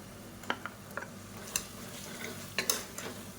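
Two medium tomatoes being sautéed in oil for vegetable pulao, a quiet low sizzle punctuated by intermittent spoon clicks and scraping taps against the pot, close but soft, no speech.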